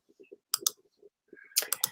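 A few sharp mouse clicks in quick pairs, close and crisp, with faint murmuring in the quiet gaps.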